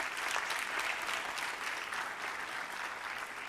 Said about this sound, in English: Can we now have a huge round of applause for all the esteemed dignitaries gracing the stage?